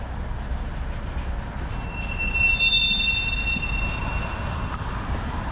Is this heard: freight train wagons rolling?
yes